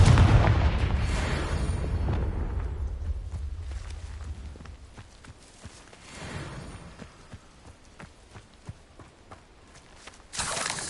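Confringo blasting spell explosions in the Hogwarts Legacy video game, with a loud booming blast up front that fades into rumble, a second softer blast midway, and another burst at the end, mixed with footstep-like taps.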